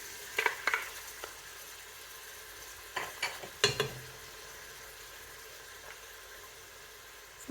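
Vegetables and meat frying in a pot for a vegetable and meat soup: a soft, steady sizzle with a few quiet scrapes and clinks from stirring, heard close up.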